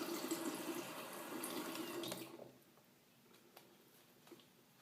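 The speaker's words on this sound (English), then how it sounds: "Give you a good rinse." Water runs and splashes steadily while hair is rinsed during a gentle ASMR hair wash, then stops after about two seconds, leaving soft, quiet drips and small handling noises.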